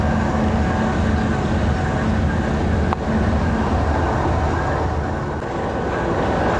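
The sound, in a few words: Pakistan Express train 46 Down passing through Jaliani station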